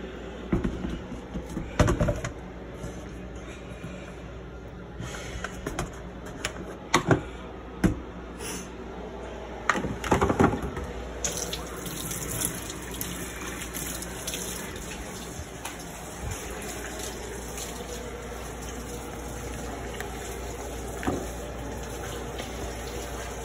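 Tap water runs steadily while hands are washed under it in a home kitchen during chili making, with soft splashes and intermittent clunks and knocks breaking the continuous flow.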